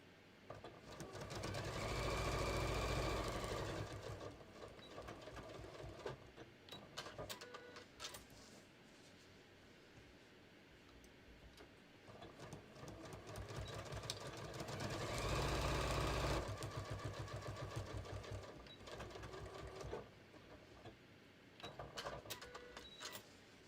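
A sewing machine quilting a beach tote runs in long steady whirring bursts that swell louder, ease off, then build again, close and continuous with no talk.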